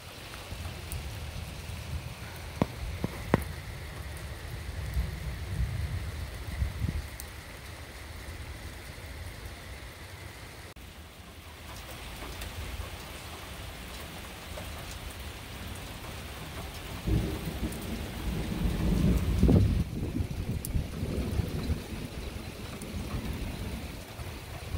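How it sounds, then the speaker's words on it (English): Steady rain falls during a thunderstorm outside a home balcony, a constant hiss with low rolling thunder swelling at the start and again near the end, heard alone without voices. "I'm going to wait for the rain to take place"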